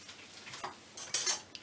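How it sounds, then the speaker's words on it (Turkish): Spoon stirring and gathering lemon and orange peels in a bowl for homemade cologne, a few soft, quiet clinks and scrapes spread unevenly, with a brighter cluster of taps near the end. "bir kaşık yardımıyla şöyle şunları toplayıp karıştırıyorum"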